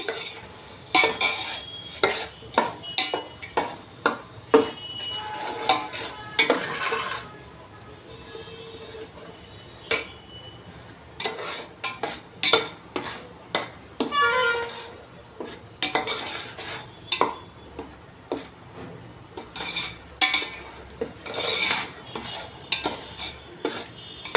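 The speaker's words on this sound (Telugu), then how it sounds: "ఇది బాగా ఏగేంత వరకు మనం బాగా కలుపుకోవాలి" Masala for a Telugu fish curry frying in a pan, with a spoon stirring and scraping in bursts of clatter and clinks over a low, continuous sizzle, close up, with quieter stretches between the bursts.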